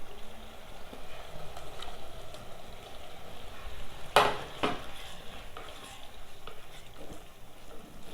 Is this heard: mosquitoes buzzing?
no